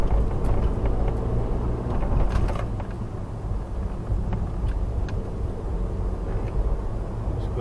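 Steady low rumble of a car driving after accident repairs, heard from inside the cabin, with continuous road and engine noise at an even level throughout and no talking.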